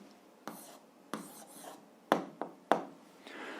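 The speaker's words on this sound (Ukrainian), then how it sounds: "а зараз записуємо відповідь, пишемо відповідь" Pen strokes scratch across paper while an answer is written down, a handful of short separate scribbles with quiet pauses between them, close and faint in an otherwise still room.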